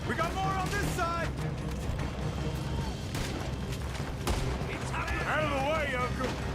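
Gunfire in a shootout in the video game Red Dead Redemption 2: repeated sharp shots and booms crack out irregularly over a dense battle din, with characters shouting and talking throughout.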